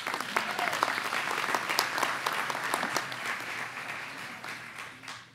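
A crowd claps at a 2014 Vermont Commons graduation ceremony as graduates are called up, a dense, even patter of many hands that stays strong and then slowly tapers toward the end.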